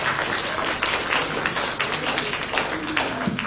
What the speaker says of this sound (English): Let's give another big round of applause.